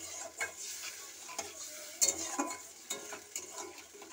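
Mustard paste masala sautés for a fish curry, soft sizzling with a spoon stirring and scraping the pan in irregular strokes, moderately close and without voices.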